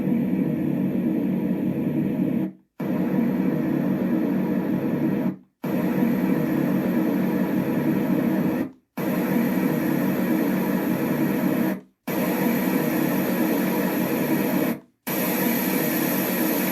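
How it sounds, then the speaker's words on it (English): Steady broadband white noise from a Yogasleep Duet sound machine, a constant loud hiss playing in five separate segments divided by brief silent gaps. "let's start with the 11 white noise and fan sounds"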